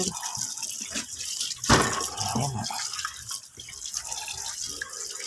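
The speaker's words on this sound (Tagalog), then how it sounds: "Punasan ng basahan na habang running water." Running tap water splashes and drips over a brake rotor being rinsed and wiped with a rag, a steady close wash with one brief louder gush partway through and a short spoken word.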